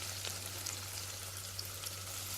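Ginger garlic paste, ground with cinnamon, cloves and cardamom, sautés in a pan for mutton biryani as a faint, steady hiss with a few light crackles and a low hum beneath, with no talk.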